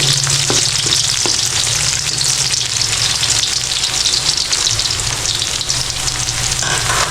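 Garlic fries in a pan with a loud, continuous close-up sizzle and crackle, broken by a few stirring knocks early on, with no one talking.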